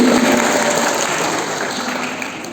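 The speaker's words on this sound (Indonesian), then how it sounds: "Bisa berikan tepuk tangan yang sangat meriah untuk dua pemateri kita pagi ini." Sustained applause from an audience at a school anti-bullying outreach session, dense steady clapping filling the room throughout, with no talk over it.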